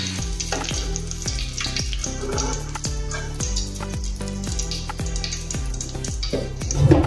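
Chakli dough frying in hot oil sizzles steadily and close up, with repeated rhythmic clinks or stirring taps over the bubbling.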